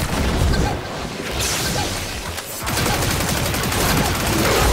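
Athodai pistol fire in Warframe, a dense continuous barrage of rapid shots and impacts filling the moment, loud and close with brief dips.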